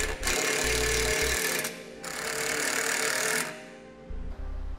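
A power driver runs screws into a Roadmaster base plate on the front of a 2019 Jeep Cherokee, giving a loud, close, continuous whirring whine in two long runs, with a low rumbling stutter as it starts and as it slows.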